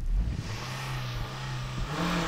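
A Mazda MX-5 race car engine revs steadily for a practice start, a close mid-pitched hum holding level with small throttle blips.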